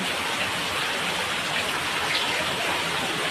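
Heavy rain pours down steadily outside a roadside cart stall at a market, a dense, even hiss of drops on surfaces with no pauses, and no voices over it.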